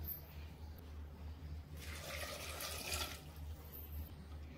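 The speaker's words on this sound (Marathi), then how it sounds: "शिजवण्यासाठी पाणी घालून घेते।" Water poured into a pot of brinjal, tomato, onion and pumpkin for sambar, a brief rushing splash in the middle against quiet kitchen background.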